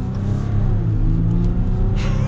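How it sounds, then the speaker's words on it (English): A 2023 Ram 1500 EcoDiesel pickup with four-wheel drive accelerates on the road, its diesel engine producing a loud, continuous deep rumble that holds strong throughout, with no talking. "we are going to get up and get our acceleration here with the EcoDiesel"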